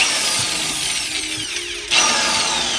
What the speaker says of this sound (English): This hammer drill might be able to get us the distance we need to get all the way through.